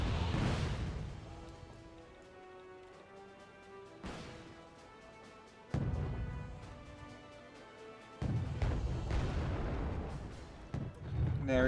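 Tank combat in Wargame Red Dragon, with loud gun blasts and explosions landing at uneven intervals: a heavy burst at the start and sharp impacts around four, six and eight seconds. Rumbling battle noise continues between the hits.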